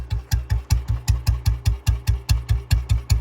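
A Bullet BS3 motorcycle engine idles slowly, a close, loud, even thump-thump beat of about five firing pulses a second with a faint rattle, and no voices over it.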